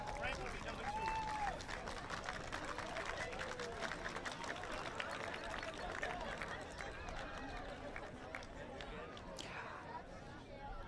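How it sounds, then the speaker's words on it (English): Outdoor crowd at a town Independence Day ceremony applauding after a ceremonial gun salute, a steady spread of clapping and murmuring voices lasting throughout at moderate distance. "I think I heard you applauding"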